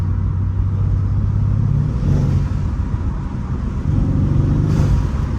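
A Mercedes C63's engine rumbles loudly from inside the car, revving and dipping briefly as the transmission snaps through very quick gear shifts, with no talking.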